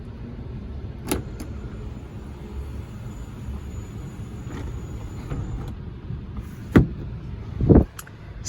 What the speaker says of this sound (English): One touch automatic sunroof.